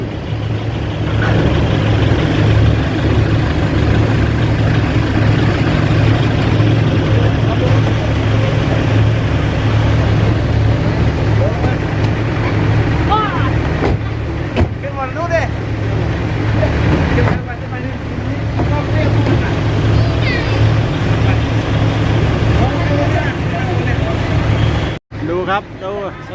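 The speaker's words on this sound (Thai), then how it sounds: "ขึ้นแพเราจะข้ามไปแหลมสมิลากัน" A ferry engine drones steadily through the whole crossing to Laem Samila, a loud, even low hum with voices over it, and cuts off abruptly near the end.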